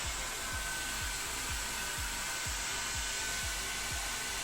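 A Panasonic hair dryer runs continuously with a steady airy whoosh and a low motor drone, close and even throughout, while a faint repeating thump pulses underneath about twice a second; nobody speaks.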